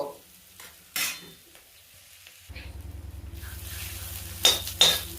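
Food sizzles and is stirred in a pan; a quiet stretch with a few clinks gives way to a steady close frying hiss with rhythmic scraping and two sharp metallic clinks near the end.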